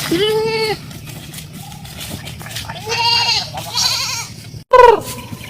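A goat bleats several times, loud and close. The drawn-out, wavering calls are separated by brief pauses, and a final sharp bleat comes near the end.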